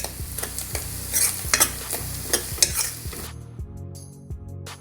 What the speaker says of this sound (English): Now add ginger garlic paste, some finely chopped chilies, green chilies, and mix it well.